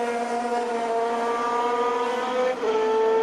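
Formula 3000 race cars at a German circuit, 2002, scream past in a steady high-pitched engine howl with strong harmonic whine, sustained and loud throughout with a brief dip near the end.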